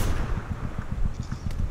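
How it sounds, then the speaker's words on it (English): Gunfire in the video game Bad Company 2 sounds as a rapid, rhythmic burst of a dozen or so heavy shots in under two seconds, loud and fairly close, with no talk. "Yeah, I hear him shooting."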